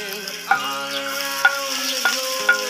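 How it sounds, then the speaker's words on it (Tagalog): Garlic, onion, tomato and chili sautéing in a pan for a bitter gourd dish, a steady close sizzle broken by four sharp clinks of a utensil against the pan. "Pabigyan daan naman ang pagigisa ng bawang, sibuyas, kamatis at sili para sa ating pangalawang putahe"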